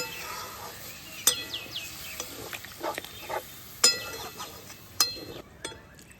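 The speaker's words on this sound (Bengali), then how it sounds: "এবার আমি এর মধ্যে পরিমাণ মতো জল দিয়ে দেবো" Water poured into a pot of shrimp and yam curry, sizzling and hissing against the hot masala, with several sharp metallic clinks of a utensil against the pot.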